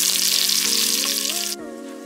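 Turmeric and red chili powder fry in a pan for corn curry as they are mixed, a dense continuous sizzle that drops abruptly in intensity near the end, close and loud.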